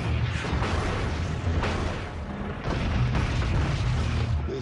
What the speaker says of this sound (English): There's tanks being hit, bang, bang, bang, all over the place.